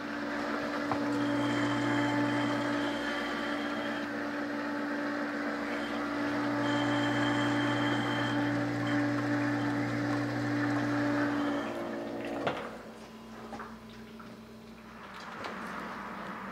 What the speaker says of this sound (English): what I'm finding is the pump is becoming a little bit belabored